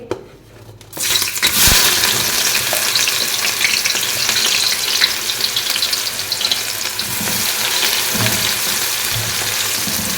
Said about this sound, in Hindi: ऑयल अच्छी तरह गर्म हो चुका है। अब हम प्याज डालेंगे।